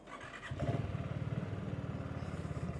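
A BSA Gold Star single-cylinder motorcycle engine thumps roughly at low revs, chugging unevenly close by as it stalls; no talking.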